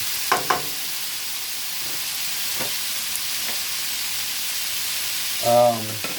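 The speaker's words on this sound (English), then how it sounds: "We're going to stir this around just a little bit." Pork guisado sizzles steadily in a frying pan while being stirred, a constant frying hiss with a few sharp scrapes and clicks of the utensil and a short tonal squeak near the end.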